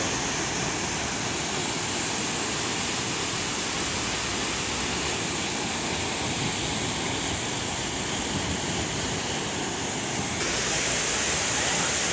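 Fast water rushes through the river headworks in a steady, loud, broadband roar that stays unbroken from start to finish, with no voices over it.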